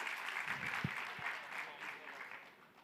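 Audience applause for quiz teams at a quiz competition, a steady wash of clapping across the whole stretch, moderately loud with a couple of brief low thumps partway through.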